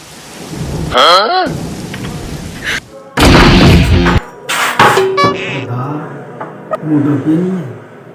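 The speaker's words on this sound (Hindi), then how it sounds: "बारिश भी बहुत हो रही है" Heavy rain pours steadily while loud claps and rumbles of thunder break in as sharp bursts, with a voice briefly heard between them during a night-time roadside scene after a car breakdown.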